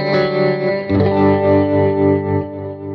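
Clean electric guitar through a tremolo effect on a praise and worship pedalboard, a strummed chord followed by another that swells in an even pulsing rhythm, close and loud with no talking.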